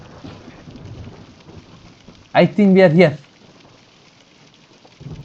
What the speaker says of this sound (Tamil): ஆல்ரெடி மழை பெய்யுது பயங்கரமா